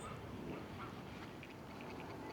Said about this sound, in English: Big Canadian geese over there somewhere.